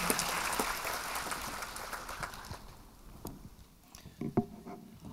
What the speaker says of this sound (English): Another solid performance from SGBMH. Round of applause, ladies and gentlemen.